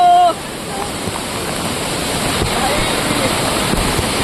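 Amboli waterfall gives off a loud, steady, close roar of rushing water that continues unbroken, with a brief voice at the very start.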